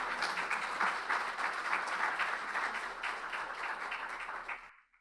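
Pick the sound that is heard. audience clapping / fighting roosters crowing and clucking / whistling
audience clapping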